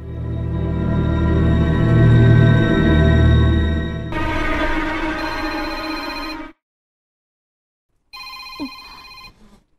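A telephone rings during a call, a loud, close, steady electronic ringtone with a layered tonal warble lasting several seconds before cutting out, followed by a brief softer tone burst.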